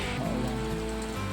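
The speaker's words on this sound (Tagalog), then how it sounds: "Lakas ng ulan." Heavy rain pours down at night in a town centre, a dense, steady roar of drops drumming on surfaces with no pauses.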